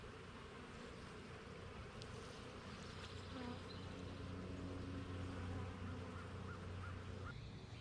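Dense, steady buzzing of many honey bees on a hive frame close by, continuous throughout with a low droning hum and faint higher insect whine.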